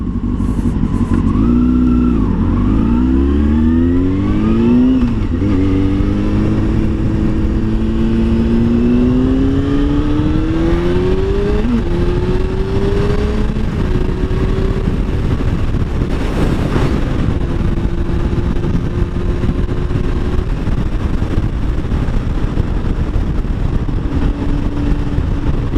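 A Honda Hornet 600 motorcycle engine drones at speed on a motorway and rises in pitch through several gear changes, with steady wind rushing throughout.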